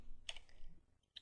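A few soft, quiet key clicks on a computer keyboard while typing a Linux command, two brief taps spaced apart in near silence.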